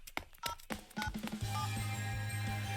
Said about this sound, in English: So I pulled out my cell phone as I ran.